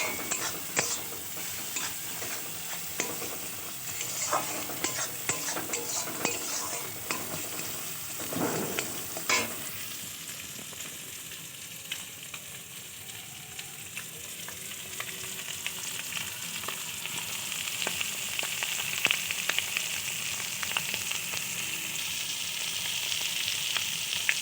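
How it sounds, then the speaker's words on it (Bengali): Egg fries in a pan with a soft, steady sizzle, broken by clinks and scrapes of stirring early on, for a homemade pasta dish, close and moderately quiet. "তো ডিমটা দিয়ে এবার সুন্দর করে ভেজে নেব।"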